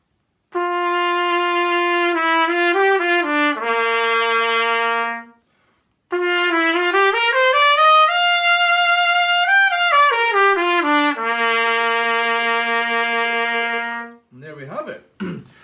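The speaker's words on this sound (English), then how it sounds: "we need to put the mouthpiece into the trumpet now." A trumpet plays a short run of notes, pauses, then sustains a long rising and falling phrase before settling, with a brief noise at the end.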